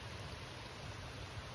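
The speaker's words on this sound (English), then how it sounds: "Now the water can go down the gully the way it's supposed to," Water flowing down a gully beside a rural dirt road gives a steady, rushing wash with no voices.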